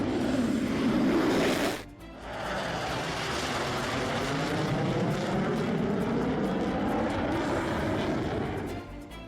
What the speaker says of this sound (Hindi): F-16 की उड़ान भी शुरू हो जाती है।